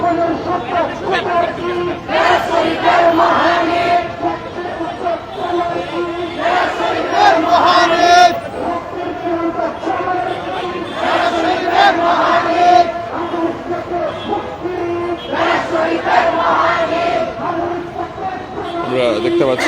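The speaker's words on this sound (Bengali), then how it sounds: "তারাও স্লোগান দিচ্ছেন" A marching crowd in the capital chants slogans in loud, rhythmic surges of many voices, rising in waves and carrying on continuously.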